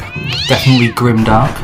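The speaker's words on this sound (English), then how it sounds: "and that was my cat" A cat meows loudly and close by in two drawn-out cries, overlapping a person speaking.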